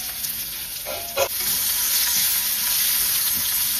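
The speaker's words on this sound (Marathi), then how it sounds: "2 ते 3 मिनिटं आपण हा कांदा असा छान परतून घ्यायचा आहे।" Sliced onion sizzles in a pan of hot oil tempered with asafoetida and garlic cloves, a steady loud frying hiss with a brief stirring clatter near the start.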